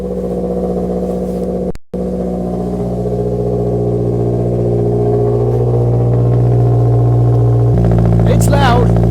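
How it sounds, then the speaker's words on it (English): A car engine just rebuilt and given an oil change starts and settles into a loud, steady idle with a rising rev, while people talk over it nearby. "So let's just get it started and see how it runs."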